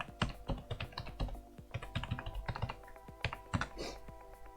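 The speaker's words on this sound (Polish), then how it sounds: "Wpisujemy adres IP urządzenia." Keys clatter on a computer keyboard as a device IP address is entered for a Hikvision DS-KV6113-WPE1 video intercom door station, a quick irregular run of close, crisp taps with no talking.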